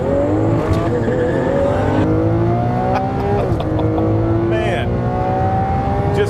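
A Lamborghini Aventador and a Volkswagen GTI accelerate hard side by side in a race, engines climbing steadily in pitch through several gear changes, loud and close for the whole stretch.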